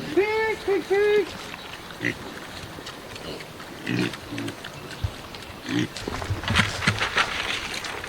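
Pigs grunt outdoors on a farm, with low snorts scattered through the clip, while a person calls to them in a high, sing-song voice at the start.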